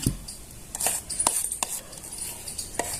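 A spoon scoops green shrikhand into a small bowl, giving a few light metallic clinks and soft taps scattered over a quiet background.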